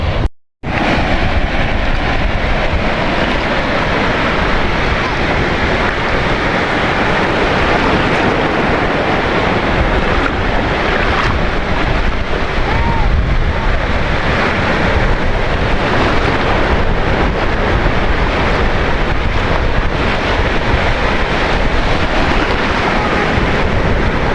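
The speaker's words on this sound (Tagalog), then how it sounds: "Ayan na ang alon." Ocean waves wash steadily onto a beach at a resort, a loud, continuous broadband roar of surf with wind buffeting the microphone throughout.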